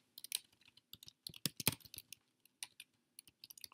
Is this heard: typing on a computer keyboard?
yes